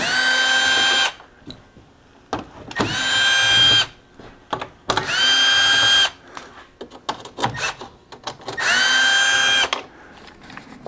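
Power tool with a T25 bit removing grille screws from a 2017 VW Jetta GLI, four loud whirring bursts of a second or so each, separated by clicks and handling noise, close up.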